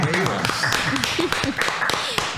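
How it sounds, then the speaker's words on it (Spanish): Sparse applause for guests on the Licey baseball podcast, a few scattered claps and taps from a small studio group, mixed with voices talking. "Un aplauso para ellos."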